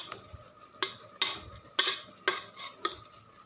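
A spoon stirs turmeric-spiced kootu in a pan, six sharp scraping clinks spaced about half a second apart against a quiet background.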